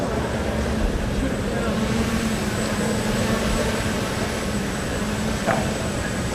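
A Skycatch drone flies at a tech conference onstage, its steady broadband whir and hum running continuously at moderate level with a faint high tone, under crowd murmur and occasional voices.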